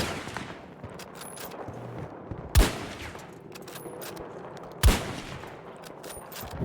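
A DXR sniper rifle in Battlefield 2042 fires two sharp, loud single shots several seconds apart, each a crisp crack with a short tail over quiet in-game ambience.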